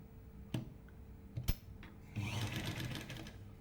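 A sewing machine stitches a churidar neck over canvas, starting with a few sharp mechanical clicks and thumps before settling into a steady, close whirring run of stitches.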